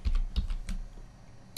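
Fingers tap a computer keyboard in a quick run of soft, close clicks that thin out, then a final heavier keystroke lands at the end.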